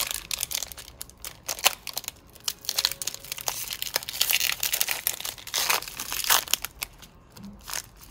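Pokémon card booster packs being torn open, their foil wrappers crinkling and crackling close up in bursts of crisp rustling and tearing, with no talking.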